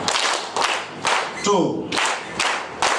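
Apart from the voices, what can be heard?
audience clapping in unison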